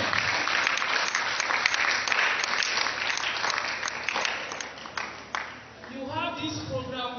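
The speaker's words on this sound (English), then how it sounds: "Let's clap for Bishop." A crowd claps loudly and steadily for several seconds, the applause fading out before a voice begins speaking.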